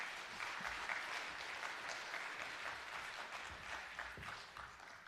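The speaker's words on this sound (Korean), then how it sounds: "목사님 나오실 때 우리 큰 박수로 모시겠습니다" A church congregation at a Sunday evening service applauds to welcome the pastor, a continuous, fairly soft wash of many hands clapping that stays even from start to finish, with no one speaking over it.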